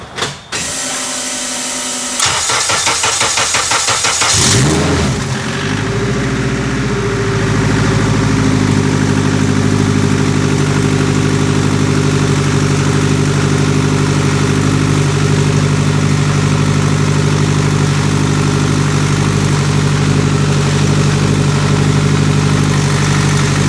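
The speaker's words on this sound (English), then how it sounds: "So as you can see, the car's running again." An 800hp all-wheel-drive Honda Civic with a new turbo settles into a loud, steady idle after a few clanks and a rough start, its low drone holding alone for the rest of the clip.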